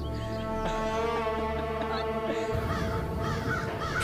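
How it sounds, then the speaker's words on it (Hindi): Crows caw a few times in the background, faint and brief, partly buried under a sustained musical drama soundtrack. "कौवे भी घूम रहे हैं।"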